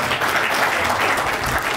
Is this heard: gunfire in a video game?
no